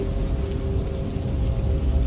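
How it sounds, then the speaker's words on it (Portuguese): Heavy rain beating hard against a window during a storm, a steady dense wash of drops with a low rumbling undertone, close and continuous with no voices. "A chuva batia com força na janela."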